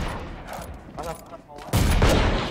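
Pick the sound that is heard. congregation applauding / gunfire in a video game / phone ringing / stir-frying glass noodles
gunfire in a video game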